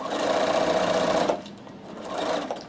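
A Bernina sewing machine stitches fabric with a steady fast mechanical whirr, stopping briefly and then running again in a short burst, close and clear.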